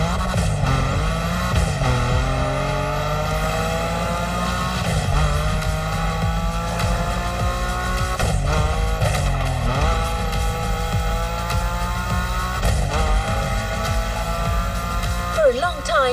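Engines roar at steady high revs while tires squeal and skid as cars drift in The Crew Motorfest on PS5, a continuous loud mix of pitch-sliding engine tones and sustained tire screech throughout.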